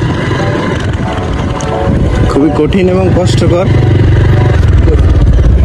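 A motorcycle is ridden over a rough, unpaved road, its engine droning loudly and continuously beneath heavy wind buffeting, while someone talks over the noise.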